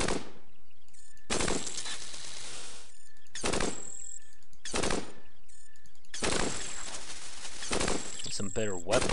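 Weapon fire in the ASCII-styled robot game Cogmind: several separate loud bursts of synthetic gunfire, each lasting about a second or longer, spaced by short silences, ending in a warbling electronic effect, with someone talking over them.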